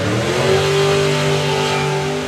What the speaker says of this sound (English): it's a bike engine anyway